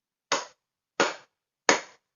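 Three hand claps about 0.7 seconds apart, a bit softer than full force, each a crisp slap that fades quickly in a quiet room, marking a weak beat for a song lesson.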